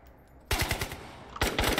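Gunfire in the video game Operator: two loud bursts of rapid automatic fire, the first longer and the second starting after a short pause, close and harsh with no talking.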